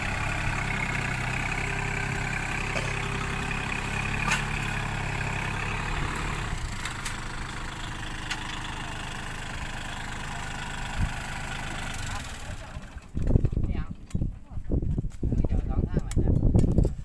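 A tractor engine idles with a steady low rumble, then turns rougher and choppier near the end, while someone talks over it.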